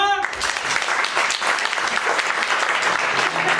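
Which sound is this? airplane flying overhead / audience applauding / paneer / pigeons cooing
audience applauding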